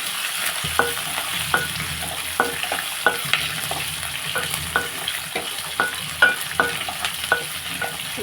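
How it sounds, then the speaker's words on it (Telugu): Tempering spices frying in hot oil, a constant bright sizzle with regular sharp taps and scrapes of a spoon stirring the pan, close and without any talking. "ఇవన్నీ మనం ఇప్పుడు ఫ్రై చేసుకుందాం అండి ఇవన్నీ పోపు వేసేసాను"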